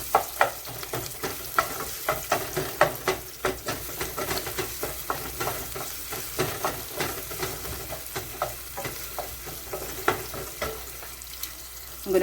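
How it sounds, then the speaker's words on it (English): Onions sauté in two tablespoons of olive oil, a constant hiss of hot oil under repeated rhythmic scrapes and clacks of a spatula against the pan, close and fairly loud throughout. "saute my onions"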